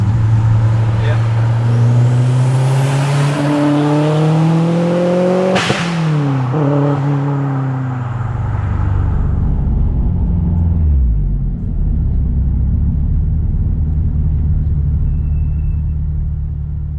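A Subaru WRX STI engine builds boost on a track, pulling hard through rising revs with a sharp gear-change crack midway, then dropping to a steady loud rumble; voices are heard.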